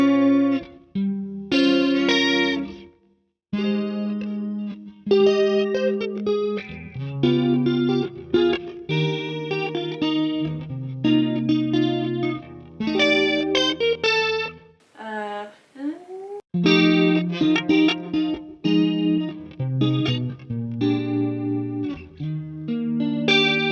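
A guitar played through a JHS chorus pedal, speed and intensity turned up, strums chords and picked notes with a lush, wavering shimmer, continuous and fairly loud with only brief gaps.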